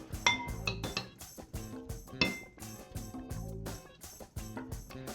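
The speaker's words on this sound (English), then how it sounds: "Mix that up, mix it really good." A spoon clinks and scrapes repeatedly against a bowl while a natural hair prep mixture is stirred, the sharp metallic taps coming in a quick uneven rhythm, close and fairly loud, with no talking.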